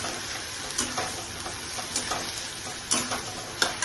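Onion, garlic and tomato fry in hot oil while a spoon stirs them, making a continuous sizzle broken by repeated scraping clicks against the pan.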